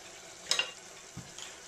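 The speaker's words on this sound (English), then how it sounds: "I want it to keep boiling for just a bit, so some of it reduces down before I put in the cabbage." Ramen noodles and chicken stir-fry cook in a pan, a faint bubbling simmer with a couple of brief clinks and scrapes of stirring, quiet and close, no voices.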